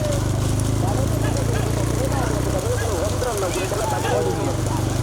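Hooves of bulls pounding along in a Tiruppattur bullock cart race, a steady close clatter over a constant engine drone, with people shouting throughout.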